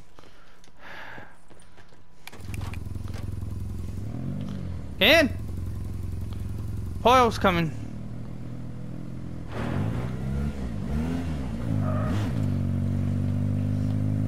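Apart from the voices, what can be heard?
car driving in Call of Duty Black Ops 4 video game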